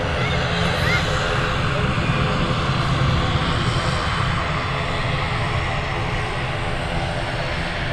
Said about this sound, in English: Lufthansa A319.